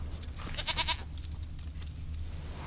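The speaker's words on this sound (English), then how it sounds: "Here, goat." A goat bleats twice in The Witcher 3, a short near bleat followed by a longer wavering one, over a low steady game ambience with no talking.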